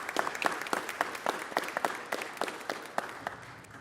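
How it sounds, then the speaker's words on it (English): A city council chamber audience applauds an honoree, giving a round of steady, fairly close clapping in which individual sharp claps stand out and the sound gradually fades. "Give him a round of applause"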